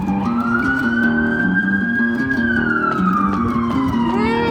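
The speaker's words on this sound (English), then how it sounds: "Here comes the siren." A loud, close police siren wails in one long sustained rise and fall, with a steady low hum beneath it and brief higher chirps at the end.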